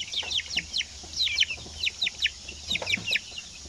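Native chickens clucking inside a crowded transport cage, a run of short, sharp, overlapping clucks and chirps close by over a low steady hum, with no talking.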